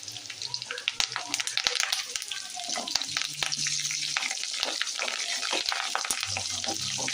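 Chicken 65 pieces sizzle and crackle as they fry in oil in a pan, a close, steady hiss with occasional stirring clatter.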